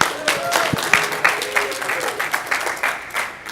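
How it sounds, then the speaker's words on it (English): Applause from a conference audience greeting a speaker, a full, steady round of clapping from many hands, with a few faint voices under it. "Give him some applause."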